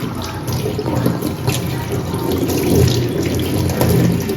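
Water running steadily from a tap into a basin as someone bathes in it, a loud continuous splashing rush close by with no speech.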